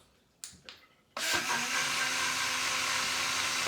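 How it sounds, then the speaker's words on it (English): A Blend Jet portable blender spins up on plain water after two small clicks, then holds a loud steady whirring drone close by. "and then blend it again."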